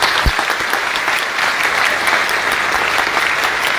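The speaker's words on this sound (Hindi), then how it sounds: "जोरदार तालियां।" Loud, dense applause from a large crowd at a gathering in Varanasi fills the whole moment, a steady wash of many hands clapping with occasional sharper claps poking out.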